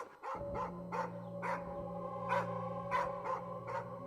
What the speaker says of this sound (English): So here's his dog barking outside